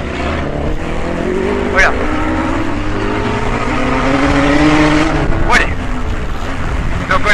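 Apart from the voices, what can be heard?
blue buggy engine racing at autocross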